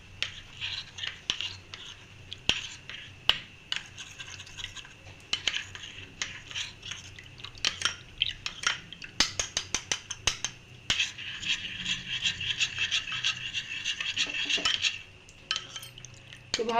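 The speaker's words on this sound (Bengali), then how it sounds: "ভালোভাবে আমি মিক্স করে নিচ্ছি।" Spoon stirring custard powder into cold milk in a bowl, a series of quick clinks and scrapes against the bowl, irregular and close, growing busier toward the end.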